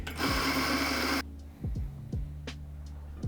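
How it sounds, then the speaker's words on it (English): A small coffee grinder grinds coffee beans while set on a scale, giving a loud, steady motorized whir for about a second before it cuts off, followed by a few faint clicks and taps. "we're going to put it on a scale and grind some coffee in it"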